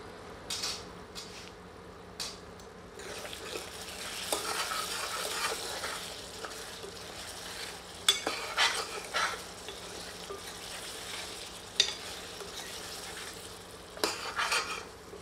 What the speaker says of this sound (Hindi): मसाला अच्छी तरह भुन चुका है।